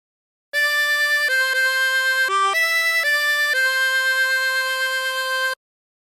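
A 16-hole tremolo harmonica plays the melody of The Yellow Rose of Texas, a steady sequence of sustained, wavering reedy notes with clear pitch changes, loud and close with no other sound.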